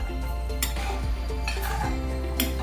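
Spoon stirring brinjal gravy with fried eggplant in a pot, a few soft scraping strokes and light metallic clinks against the pot, close and fairly quiet with no talking.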